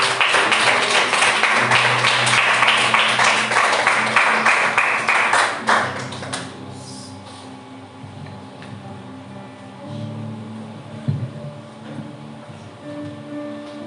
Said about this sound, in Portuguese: E as palmas louvam o Senhor, amém?